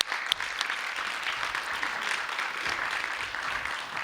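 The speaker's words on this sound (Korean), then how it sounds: "큰 격려와 지지의 박수 부탁드립니다." Audience applause for five candidates at the close of a Justice Party proportional-representation primary debate, steady crowd clapping throughout at moderate level with a few sharper individual claps.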